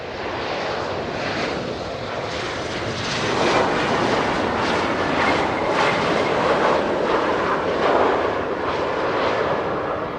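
Ryanair jet departing Manchester Airport, a loud continuous broadband roar of engines that swells slightly partway through and holds steady, heard from nearby without talk.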